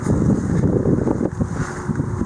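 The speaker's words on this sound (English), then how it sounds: "It's a really windy day today." Steady roaring wind buffets the microphone, a continuous low rumble with gusty swells throughout, loud and close.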